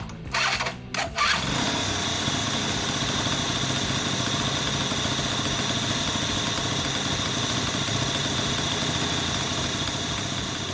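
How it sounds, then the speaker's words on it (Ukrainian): A small Yamaha Vino scooter engine, with the scooter propped on bricks, sputters and catches after a few tries, then settles into a steady, buzzing idle that runs on unchanged. "поставив я скутер на кірпічі, да, на ті самі спецпрофесійні, і завів, щоб послухати"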